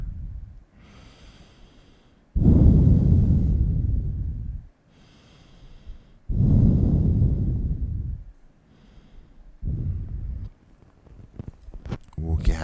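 Slow, audible exhalations during a city yoga class, three long breaths out rising and fading in a steady rhythm, close to the mic with quieter pauses between them.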